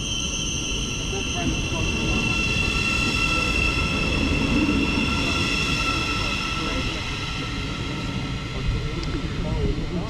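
A train pulls away from a station on the East Coast Main Line with a steady rumbling roar and a faint high whine, continuous and fairly close, with no voices.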